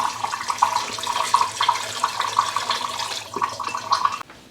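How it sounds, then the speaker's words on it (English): Tap water runs steadily into a pressure canner that is being topped up with more water, a continuous rushing splash with a clear bright hiss that carries close and fairly loud for several seconds before cutting off. "Add some more water."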